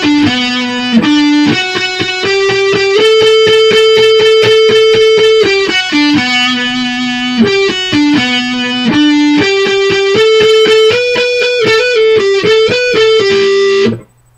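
Electric guitar plays the chorus of a song, a steady run of sustained distorted notes that climb and fall in repeating phrases, loud and unaccompanied, then stops abruptly near the end.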